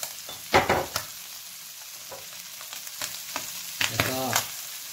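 Squid eggs stir-fried with chili paste, oyster sauce and chili in a pan, a soft continuous sizzle broken by sharp scraping strokes of a spatula and a rasping scrape near the end.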